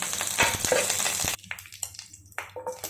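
Bay leaf, shahjeera and curry leaves, along with cloves and cardamom, fry in hot oil for egg fried rice, sizzling steadily with stirring taps, then the sizzle drops to sparse crackles and scrapes near and alone.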